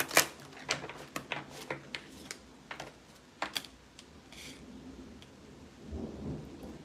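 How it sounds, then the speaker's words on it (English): Rain falling outdoors with a faint low rumble of thunder, heard softly in the background behind sharp close taps and rustles of cards being handled. "I love that y'all can hear the rain."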